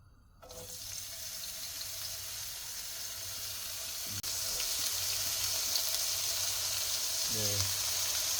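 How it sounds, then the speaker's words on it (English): Wild mushrooms sautéing in oil in a hot pan, a steady broadband sizzle that swells after a soft start and holds at a close, even level, with a brief scrape near the end. "we'll saute our mushrooms first. So in a hot pan, we'll add some oil"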